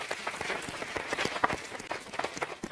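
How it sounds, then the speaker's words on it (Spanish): Applause from an audience at a live event in Salta, a steady dense patter of clapping heard fairly close throughout, with no clear voices over it. "le vamos a dar un fuerte aplauso al señor Stanley."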